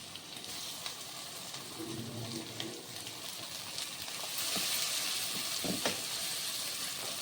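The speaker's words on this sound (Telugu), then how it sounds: "కొంచెం పచ్చి వాసన పోయేంతవరకు కొంచెం ఫ్రై చేసుకొని కట్ చేసి పెట్టుకున్న టమాటాలు వేసుకోవాలి" Chopped tomatoes fry in a pan of oil with turmeric for tomato rice, giving a steady, close sizzle and hiss with occasional stirring scrapes; the sizzle grows slightly louder partway through.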